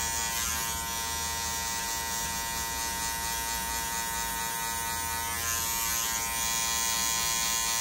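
An electric hair clipper buzzes steadily and close during a mid fade haircut, a continuous high-pitched motor whine with no talking.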